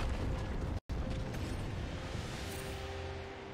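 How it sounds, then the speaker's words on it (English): League of Legends turret destroyed with a deep rumbling crash that breaks off for an instant, then rolls on into a long, fading debris roar. "Red Team's turret has been destroyed."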